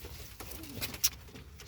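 Homing pigeons cooing faintly in a loft, a few soft low coos against quiet background noise, with no talking.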